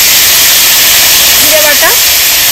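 Ground ginger and dried chili paste hits hot oil in a frying pan with a loud, close, continuous hiss and crackle, while a voice speaks briefly over it midway.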